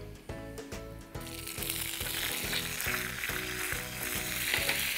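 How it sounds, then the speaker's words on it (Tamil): Mustard seeds, dried chillies, asafoetida and curry leaves hitting hot oil for a tempering, a bright, steady close sizzle that swells after a second and holds, with a low rhythmic background hum throughout. "எண்ணெய் சூடாகிடுச்சு. இதில் கடுகு, காஞ்ச மிளகாய், பெருங்காயம்,"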